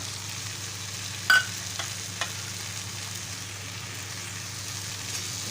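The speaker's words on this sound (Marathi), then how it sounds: "आता असं दोन मिनटं परतून घेणार आहोत" Dried small prawns (sukka jowla) sauté in a pan, a continuous soft sizzle with one sharp clink of a utensil and a few faint stirring sounds.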